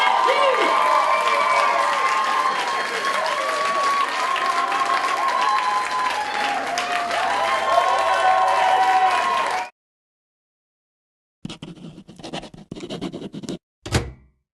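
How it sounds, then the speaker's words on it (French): Festival crowd applauds and cheers a band at a Ninkasi contest event, loud sustained clapping and shouts for about ten seconds before cutting to silence, followed by a few brief, scattered bursts of other sound. "on applaudit encore très très bien"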